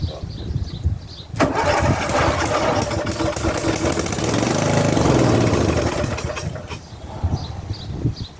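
A carbureted riding lawn mower engine with a long-idle, likely dirty carb cranks and catches, running loud and steady at raised throttle for several seconds before dropping back, with faint voices around it.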